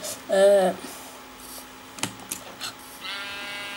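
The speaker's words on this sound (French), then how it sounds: "là, il y a des moutons, c'est bien" Sheep in the Minecraft video game bleat, one clear wavering bleat early on, followed by quieter game noises, with someone talking over the sounds.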